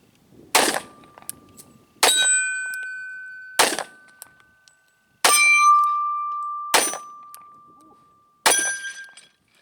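Six pistol shots from a Springfield XDS fired with a small two-finger grip, sharp loud cracks at uneven intervals, each followed by a ringing, metallic clang from a steel target that fades before the next shot.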